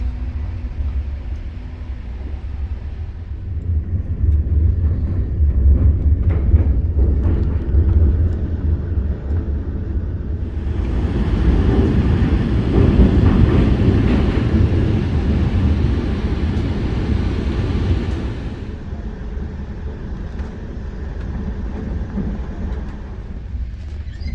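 The Shoraighat Express rolls through the night, a steady low rumble of wheels and carriage with a brighter, louder stretch of clatter midway before settling back to a droning hum.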